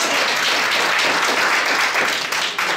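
Audience applauding steadily at a New Year's evening in a bard café, dense clapping filling the room without pause, no voices over it.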